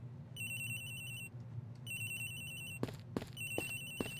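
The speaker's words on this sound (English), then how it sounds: "Oh, Agent Hicks's phone is ringing from somewhere, sir." A cell phone ringtone from the video game Ace Attorney Investigations: Miles Edgeworth chirps in repeated bright electronic bursts over a steady game background hum, with a few sharp clicks near the end.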